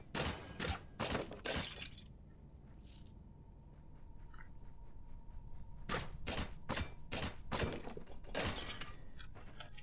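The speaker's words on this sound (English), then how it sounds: "it's time, I think, to start smashing crates and barrels" Crates and barrels being smashed in the dungeon-crawler game Stoneshard: a rapid series of sharp wooden cracks and crunching breaks in two bursts separated by a quieter pause, loud and close.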